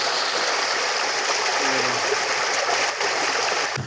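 Water rushes steadily through a drain on a farm, a continuous close splashing flow with no pauses and no talk over it.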